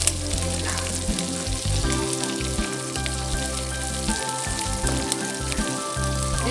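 Green chillies fry in a pan while chicken is cooked, giving a loud, continuous close crackling sizzle with a low steady hum beneath.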